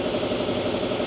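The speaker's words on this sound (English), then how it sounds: "Pardon the compressor noise." An air compressor runs steadily in a workshop during truck fuel-line work, a loud, continuous mechanical drone with a low pulsing rumble and no breaks.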